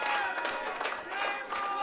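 An SICW All-Star Wrestling arena crowd cheers and applauds, the clapping and shouting surging in waves, dense and steady from start to finish.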